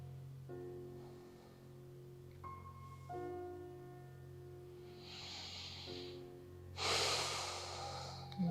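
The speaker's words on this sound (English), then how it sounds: "Breathing deeply here as we hold." Slow, deep breaths during a held yin yoga hip and leg stretch, soft inhales and a louder hissing exhale near the end, heard close over a steady low musical drone.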